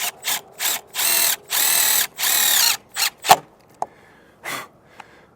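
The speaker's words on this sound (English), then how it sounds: "we'll take our flathead screws and secure it" A power drill drives flathead screws into a Solera slide-out awning bracket on a 2022 Grand Design Imagine XLS travel trailer, with loud close whirring bursts, short and long, followed by a few sharp clicks and taps.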